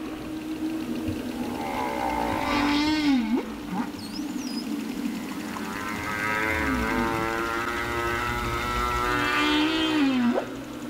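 Humpback whale social calls recorded underwater in Sitka Sound, including calls between mother and calf and within feeding groups: long moaning, upsweeping tonal cries with rich harmonics repeat over steady hiss, loud and close.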